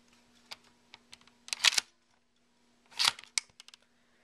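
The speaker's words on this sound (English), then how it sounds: "If you pull the bolt back, the shell ejects, and that'll do that every single time." A UHC Tactical 9 sniper rifle, an airsoft spring gun, has its bolt pulled back to eject a shell: a few light ticks, then two sharp close mechanical clacks about a second and a half apart, with no talk.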